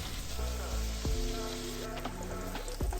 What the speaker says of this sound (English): the goal here is just get these brown, render out some of that fat